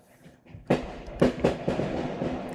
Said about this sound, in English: That's fireworks in the background.